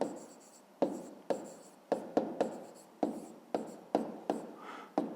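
Pen writing by hand in a school maths notebook, a run of short scratchy strokes about ten in five seconds, each starting sharply and fading, close and fairly quiet with no talk.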